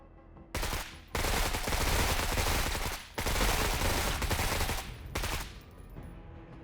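Sustained bursts of heavy gunfire from a turn-based strategy game roll on in loud, dense volleys, broken by a few brief pauses between rounds of suppressing fire.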